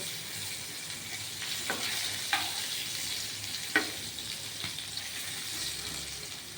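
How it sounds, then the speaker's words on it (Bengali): Steady sizzling of potato and pointed gourd frying in a pan, with a few sharp clicks and scrapes from stirring, close by and without talk. "আলু পটল ভাজা ভাজা হয়ে আসছে"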